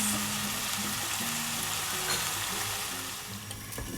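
Aubergine curry gravy simmers in oil, giving off a steady dense sizzle and bubbling crackle that runs evenly the whole time, close and moderately loud with no voices.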